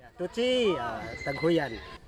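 A horse whinnies twice in quick succession, each neigh a loud, descending, harmonic call close to the microphone over faint background noise.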